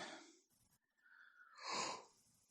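A close, breathy human yawn: a rough inhale, a brief pause, then a thin drawn-out voiced stretch swelling into a louder airy exhale over about a second, with no speech around it.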